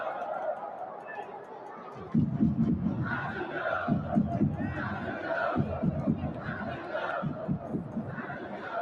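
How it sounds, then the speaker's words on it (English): Football stadium crowd at an FC Seoul versus Jeju United match chanting players' names. After a quieter opening murmur, a loud rhythmic chant surges in and keeps pulsing, with voices mixed through it. "Crowd chanting the names of the two players."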